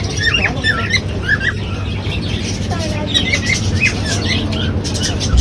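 Sparrows chirp and squawk repeatedly in quick, busy bursts near a temple, heard over a steady low rumble and background noise, with people talking at moments.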